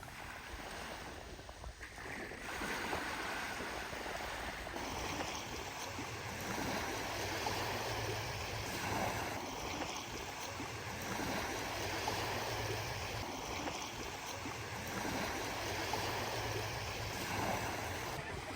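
Soft, continuous wash of waves on the pebbly shore of Agios Prokopios beach on Naxos, distant and low with gentle rolling surges, faint background wind.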